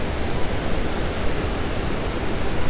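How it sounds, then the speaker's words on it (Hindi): Rushing water pours at the Iguazu waterfalls in Argentina, a dense, steady roar with no breaks and no voices. "और नीचे पानी देखें, ये तेज़ी से बह रहा पानी"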